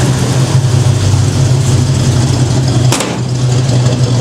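A 351 Cobra Jet V8 in a 1971 Ranchero GT idles with a steady, uneven low rumble and a lopey beat from a lumpy cam, close and loud, with a brief clunk near the end.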